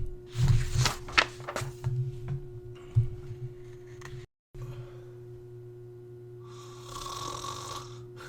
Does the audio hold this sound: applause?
no